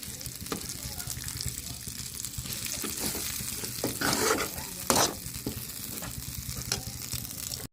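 Brinjal pieces cooking in oily masala gravy in a pan for Telugu-style stuffed brinjal curry, giving a steady bubbling sizzle with occasional louder stirring scrapes and splashes, close and continuous.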